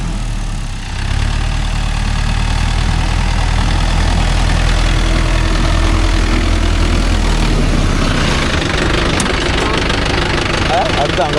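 A Mahindra Yuvo Tech Plus 575 4WD shuttle-gear tractor engine runs steadily and loudly up close, a continuous low diesel rumble that grows rougher toward the end as it works in a field.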